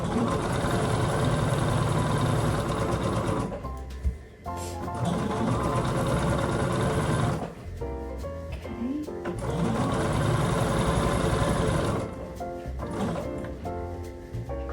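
A sewing machine stitches a pieced quilt in two long, loud bursts of rapid, steady whirring, each about four seconds. Short pauses between the runs carry the rustle of fabric being handled.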